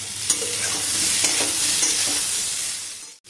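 Potatoes fry in a pan with ginger paste and spices, a loud close sizzle with scraping stir strokes that cuts off abruptly at the end.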